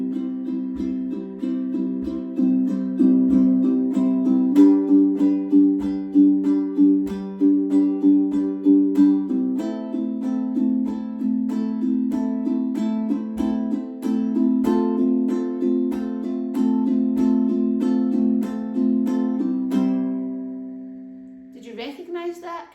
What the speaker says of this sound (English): we'll play 2 bars for each with down-up strumming